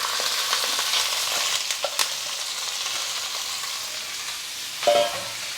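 Onions, green chilies and curry leaves fry in hot oil for a mushroom fry, giving a steady close hiss with a few soft stirring knocks and a brief louder crackle near the end; no one speaks.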